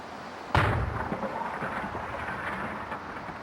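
A single explosion bursts suddenly, sharp and loud, followed by a rumbling, rolling decay that lingers for a few seconds.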